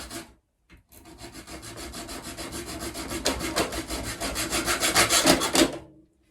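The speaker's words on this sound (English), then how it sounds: "This is where I find out that this post is actually metal, so quite hard to saw through, but a junior hacksaw will generally get through most things." A junior hacksaw cuts through a metal post in quick, steady back-and-forth strokes that grow louder and rougher toward the end, close up with no talking, after a brief pause at the start.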